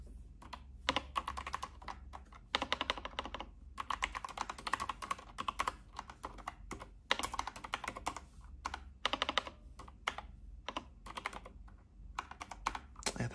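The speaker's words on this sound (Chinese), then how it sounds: "打字的话是感觉不是延迟" Rapid, uneven keystrokes on the keyboard of a Black Shark cooler set, clacking steadily up close in the 2.4G-ready setup, with short pauses between bursts and no talking.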